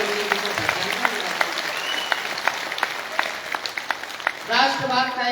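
Audience applause at a live poetry gathering in Rudrapur builds as a crackle of scattered claps, with a voice speaking over it near the end.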